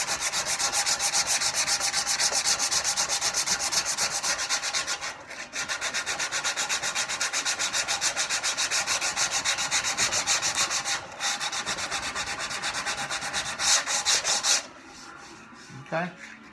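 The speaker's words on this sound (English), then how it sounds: "I would use that as my sanding block" Close, rhythmic scratchy rubbing of sandpaper on a sanding block against a wooden stool part, steady back-and-forth strokes with a couple of brief pauses and a clunk near the end.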